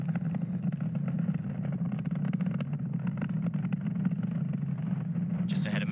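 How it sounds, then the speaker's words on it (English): The Merlin 1D engines of a SpaceX Falcon 9 rise from Cape Canaveral in a steady low, crackling roar with a rough rumbling texture, heard from a distance. "we have throttled those Merlin 1D engines back up to full power to continue to boost"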